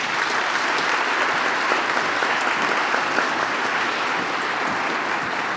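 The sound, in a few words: applause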